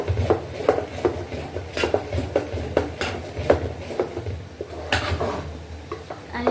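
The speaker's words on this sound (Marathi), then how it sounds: "मी या बेटरला करते आहे मिक्स." Dhokla batter is stirred in a bowl with steady rhythmic strokes, close up, the spoon clicking and tapping against the bowl's sides.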